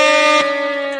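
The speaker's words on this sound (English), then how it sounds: "Hold on, we gotta drop the air horn." Air horn sound effect, a single loud, steady blast lasting about a second and cutting off abruptly.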